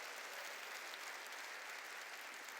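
A church congregation applauds during a Korean sermon, the dense clapping steady and even but faint and distant, with no voices over it.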